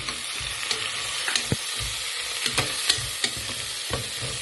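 Mint leaves fry in hot oil with ginger garlic paste for a soya vegetable palav, a steady close sizzle broken by the scrape and tap of a stirring spoon against the pan.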